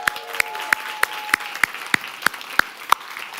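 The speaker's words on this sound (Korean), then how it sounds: "박수 한번 쳐드릴까요?" Church congregation applause for small group leaders, with about ten sharp, evenly spaced claps standing out over a soft background patter, close and fairly loud.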